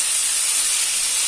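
Potato filling of mashed boiled potato frying in oil in a hot wok, a steady loud hiss and sizzle with no break and no talk.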